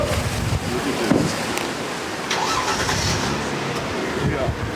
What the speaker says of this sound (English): I leave the engine running so we can take off